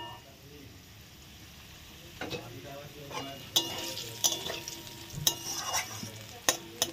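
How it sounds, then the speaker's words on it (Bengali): Potatoes fry in a pan for a Bengali pabda fish dish, a low steady sizzle with stirring scrapes and sharp utensil knocks growing busier and louder over the second half, no speech. "এখন আলু ভাজা হয়ে গেল।"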